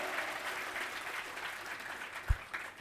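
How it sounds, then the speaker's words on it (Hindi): An audience claps steadily at a devotional gathering at Shri Pandokhar Sarkar Dham. The sound is a soft, distant wash of many hands that lasts throughout, with one sharp thump near the end. "आनंद आ रहा तो ताली बजाइए"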